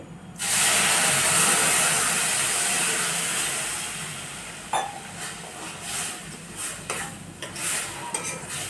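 Milk poured into a pan of sweet potato kheer makes a steady liquid rush with hissing and steam, loud at first and easing off, with a few light clinks against the pan near the end.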